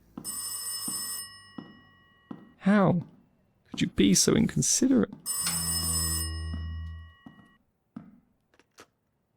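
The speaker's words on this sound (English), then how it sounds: "The phone's ringing." A telephone bell rings in short bursts inside a horror VR game, clear and fairly loud, alternating with tense spoken dialogue and a few clicks and thuds.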